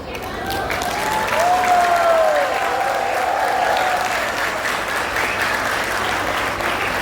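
A crowd at a speech event claps steadily, a dense sustained patter of applause lasting several seconds, with a brief whistle-like tone near the start.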